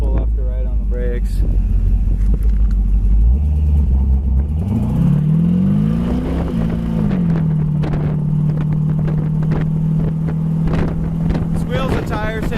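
A black 1934 Ford street rod pulling away hard, its engine climbing in pitch through a gear, then cruising at a steady drone under heavy wind rush, with someone talking throughout.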